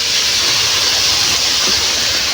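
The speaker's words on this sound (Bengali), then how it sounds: "এখানে মশলা কষানো হচ্ছে" Spice paste of ground masala sizzles and hisses loudly in a pan as it is cooked down. The frying noise is dense and steady and close to the microphone.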